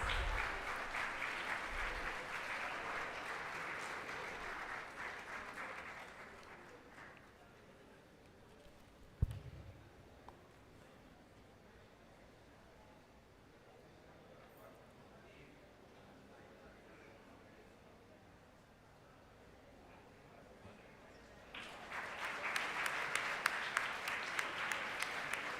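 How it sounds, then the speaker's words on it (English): Audience applause at a university law school commencement felicitation ceremony: a dense burst of clapping at the start fades into a quieter room with shuffling and a thump, then swells again near the end. "A round of applause, please."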